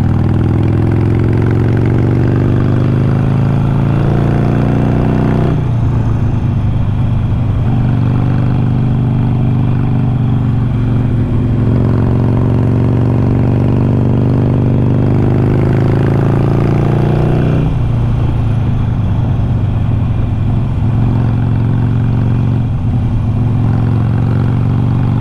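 Harley-Davidson Sportster, a Frisco-style build, ridden on open road, its engine rumbling loud and close in a deep continuous throb that rises and falls as the throttle opens and eases, mixed with wind noise.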